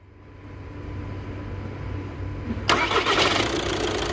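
A 2012 Volkswagen Jetta's engine is started: a low murmur builds, then the engine catches with a sudden loud burst and settles into a strong, rough running roar.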